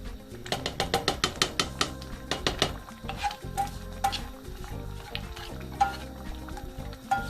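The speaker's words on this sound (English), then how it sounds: "paneer chunks, just getting them nice and brown in the fry light oil again" Paneer chunks sauté in light oil in a pan, with close, rapid scraping stirs and clinks of a utensil against the pan over a soft sizzle.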